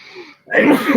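A sudden explosive sneeze bursts out after a brief quiet intake, loud and close, following a faint murmur of voices.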